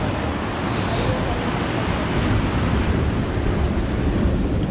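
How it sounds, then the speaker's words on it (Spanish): Large ocean waves breaking on a beach roar as a dense, steady wash of surf with wind rumbling against the microphone, continuous and close throughout. "Está algo grande la ola,"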